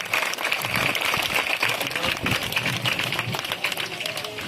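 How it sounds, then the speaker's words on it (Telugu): A devotional gathering audience applauds an honored guest with dense, sustained clapping throughout, with some voices mixed in beneath the clatter. "మాడగుల అనిల్ కుమార్ శర్మ గారికి మనందరూ ఒకసారి చప్పట్లు గట్టిగా"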